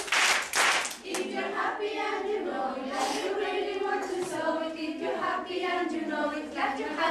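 Children clap their hands along to the song "If You're Happy and You Know It", with rhythmic clapping bursts under loud group singing.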